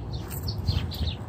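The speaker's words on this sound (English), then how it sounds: "Oh, you got the birds flying out." Birds chirp and tweet in a Methodist cemetery dating from 1846: a few high, short calls scattered over a low, steady outdoor background, moderately close but soft.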